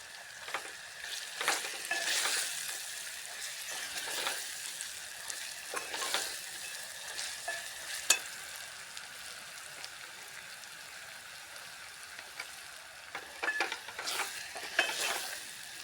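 Red chili powder is added to a raw mango curry frying in a pan and stirred in: a steady oil sizzle under repeated scraping strokes of a spoon against the pan, close and moderately loud.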